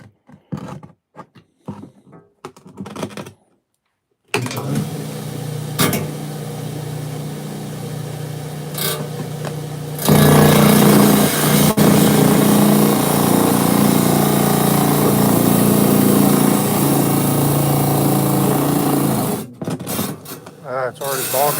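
A rock saw grinds through a hard agate and bogs down under the load. A steady, loud rasping drone runs for most of the stretch and grows heavier partway through, after a few brief knocks and a short silence at the start.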